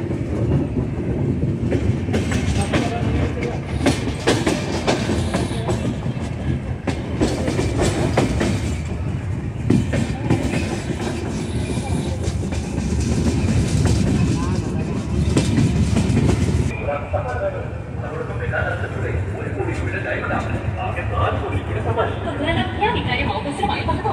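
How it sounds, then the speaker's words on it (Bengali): A long-distance train rolling into Katam station, with continuous rumble and rhythmic clickety-clack of wheels on rails that eases and quiets in the final stretch as it slows, with people talking over it. "তো বন্ধুরা আমাদের ট্রেন এসে পৌঁছালো কাতাম স্টেশনে"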